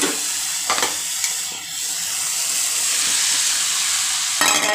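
Potatoes frying in a pan with chilli, salt and coriander powder, a continuous close sizzle and hiss broken by a few stirring scrapes, loud and with no voices.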